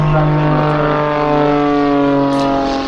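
An aerobatic biplane at a seaside airshow drones loud and close, its propeller engine holding a steady harmonic hum for the whole stretch.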